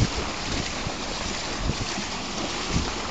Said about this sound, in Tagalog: Yan po ang truck. Nahihirapan siya umandar.